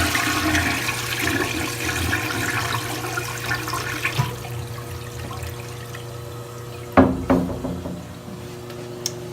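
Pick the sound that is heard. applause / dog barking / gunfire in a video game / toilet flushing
toilet flushing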